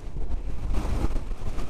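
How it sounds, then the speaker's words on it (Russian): Strong wind at a viewing platform in Oia, Santorini, batters the microphone with a heavy, rumbling buffeting that rises and falls, loud and close, with no voices. "Здесь бешеный ветер, конечно."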